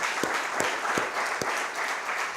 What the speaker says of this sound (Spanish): Denle un aplauso por favor a Dios esta mañana